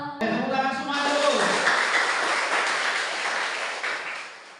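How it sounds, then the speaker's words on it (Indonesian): A classroom of pupils claps together, a dense burst of applause that swells quickly after a brief spoken cue and carries on steadily for several seconds before easing off. "Tepuk tangan semua dulu."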